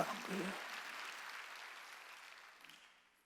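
Faint applause from a church congregation during a Sunday worship service, a soft wash of clapping that starts fuller and gradually fades away, heard at a distance.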